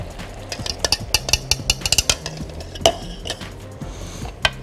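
Stirring a sauce in a frying pan with a spatula, the tool scraping and clinking against the metal in irregular bursts over a soft sizzle, close and moderately loud with no voices.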